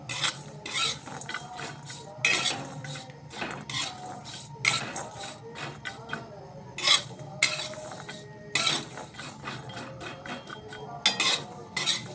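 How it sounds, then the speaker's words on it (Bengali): Cashew nuts being fried with salt in a pan are stirred, giving uneven scraping and rattling strokes of a utensil against metal in quick irregular bursts. They are close-up, with no voices. "এটাও ভালোভাবে নেড়ে ছেড়ে ভেজে নিচ্ছি কাজু বাদামটাকে"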